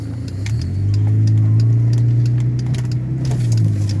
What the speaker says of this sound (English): Right now, we are actually driving to the UPS store